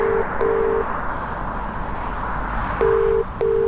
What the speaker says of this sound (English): I'm ringing you, you need to pick up the phone.